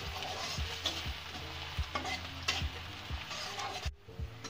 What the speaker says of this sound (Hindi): अब डालेंगे प्याज। इसको हल्का सा भून लेंगे।